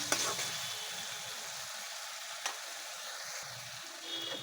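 Masala spices sautéing in oil in a pan for a bitter gourd and fish curry, a steady soft sizzle with occasional stirring clinks, fairly quiet and close, with no talking.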